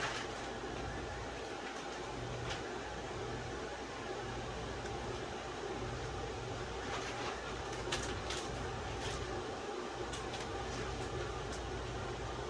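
A small fan blowing air into a homemade inflatable plastic tent, heard as a constant whirring, airy hum with a low steady drone underneath and a few faint rustles and clicks, unchanging and moderately quiet.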